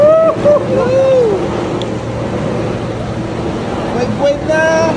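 Artificial waves surge in a chlorinated resort wave pool at 9 Waves, Ciudad Christhia Resort, a steady rushing wash of water mixed with wind, with nearby voices, shouts and whistle-like cheers over it.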